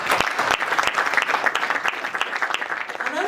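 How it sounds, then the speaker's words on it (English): Audience clapping at a celebration event in Uganda, a fairly close, uneven patter of individual claps over a few seconds, with a voice beginning to speak right at the end. "Let's clap for all of those he has named."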